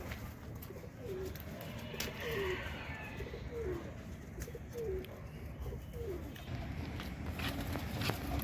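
Domestic pigeons kept in a loft coo in a repeated series of soft, low, rolling calls spaced about a second apart, set against a dense, noisy background.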